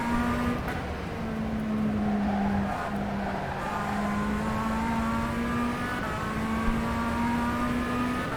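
A Tatuus USF-17 single-seater race car engine laps the Nordschleife in the rFactor 2 racing simulator. A loud, steady, buzzing engine drone holds a near-constant pitch, with brief dips around gear shifts and no talk.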